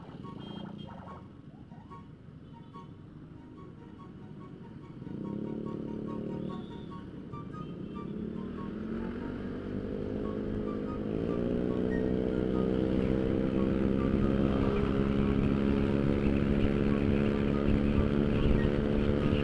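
Engines in slow, congested Jakarta traffic, including a Yamaha NMAX scooter, as a steady motor drone rises in pitch and loudness while riding along, with scattered beeps and a busy road hum.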